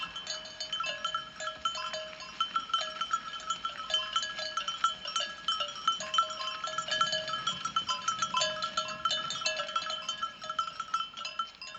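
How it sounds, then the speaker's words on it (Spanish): Many sheep bells tinkle and clank continuously in a dense, overlapping shimmer, as if a flock is moving nearby, with faint animal sounds beneath and no speech. "un paraíso rodeado del tintineo de cencerros de ovejas celestiales"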